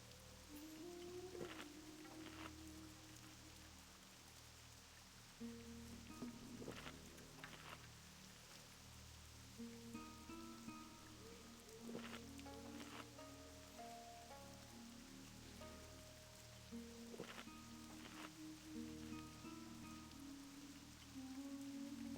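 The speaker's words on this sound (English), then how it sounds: "Rain just started here." Rain falls in a video game as a soft, continuous patter of drops on surfaces, faint and steady, with light game tones and occasional clicks in the background and no speech.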